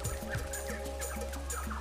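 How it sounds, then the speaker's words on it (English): Whistling ducks call in a Kakadu wetland, with short repeated chirping notes over a steady low hum in the background. "And there's always plenty of whistling ducks."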